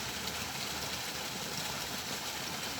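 A stream of water flows into a river after heavy rain, a continuous broad rushing wash that is steady and fairly faint, with no voices.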